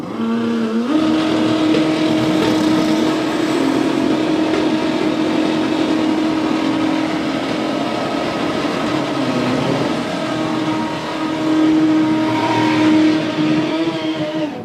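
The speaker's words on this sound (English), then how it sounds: "Right, next pair just about to do the burnouts." A drag racing car does a burnout at a drag strip event, a loud, sustained engine roar with a steady high-revving tone that rises and dips, close and dominant throughout.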